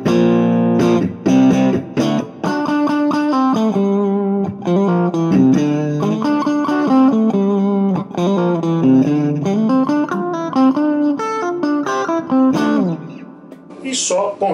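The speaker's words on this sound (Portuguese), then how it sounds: "Sem distorção, naquele som mais quackzinho." An electric guitar with a clean, undistorted, quacky tone plays a melodic line of distinct plucked notes and chords, close and clear.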